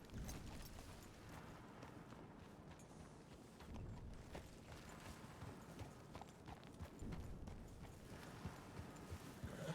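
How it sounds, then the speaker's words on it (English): A horse's hooves clip-clop away at a steady walking rhythm, faint and somewhat distant against a low, noisy background, with no speech over them. "Look, even his horse left him."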